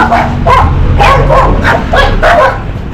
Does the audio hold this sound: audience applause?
no